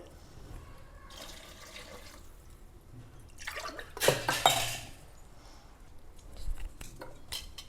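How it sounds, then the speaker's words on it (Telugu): Water splashes into a metal pot in a short pour for vegetable biryani rice, surrounded by faint clinks of utensils in a quiet kitchen. "సో ఒకసారి మొత్తం కలిపేసి వాటర్ వేసుకుందాం"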